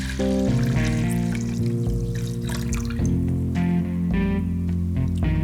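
Water poured from a container into the tank of an ultrasonic cleaner, a continuous gurgling stream with shifting pitch as the vessel fills, loud and close with no talking.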